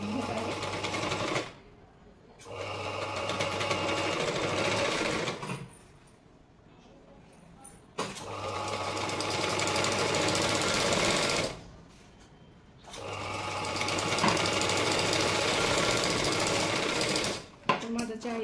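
A sewing machine stitches a blouse, running in several sustained bursts of rapid mechanical whirring separated by short pauses, close and loud.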